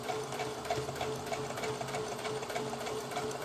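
Domestic sewing machine stitching fabric for a rag doll, a quiet, rapid rhythmic mechanical whir and ticking of the needle running continuously at an even pace, with no talking.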